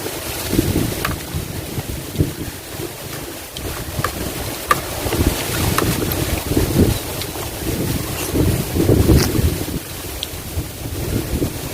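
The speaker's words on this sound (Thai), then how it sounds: "ลมกับพัดลมเนาะ" Wind and an electric fan blow steadily into the microphone at an outdoor home cooking spot, making a loud continuous rumbling buffet with irregular low gusts throughout, without speech.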